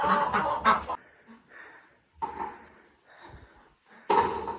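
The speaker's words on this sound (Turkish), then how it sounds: "Şu beyaz tavuğu, şu kara Tavuğu alabilir." Chickens on a farm, white and black hens, clucking in several separate bursts spread through the clip, fairly close and moderately loud.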